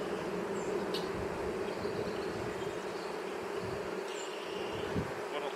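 Honey bees buzz around a hive in a steady, dense drone, with a few individual bees zipping close past now and then.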